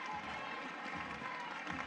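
A softball crowd at an Oklahoma vs Houston game is on its feet, a steady, fairly faint wash of applause and cheering heard at a distance with no single voice standing out.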